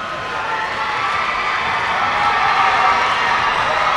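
A steady crowd roars and cheers without a break at a high school boys basketball state tournament game in a gym, the sound loud and continuous.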